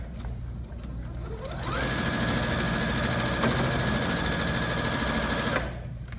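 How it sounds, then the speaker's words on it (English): A Singer Featherweight C240 sewing machine hems a pair of jeans through thick layers, running in a loud, steady mechanical whir for about four seconds between quieter handling sounds. "I'm going to show you this machine hemming a pair of jeans."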